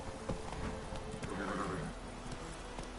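Roach, a horse in The Witcher 3, neighs and gallops, giving a clear whinny in the middle over quick rhythmic hoofbeats, with soft game ambience behind.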